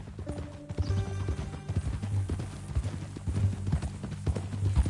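Steady clip-clop of horse hooves in a western video game, a brisk repeating rhythm heard up close under faint background sounds, with no one talking.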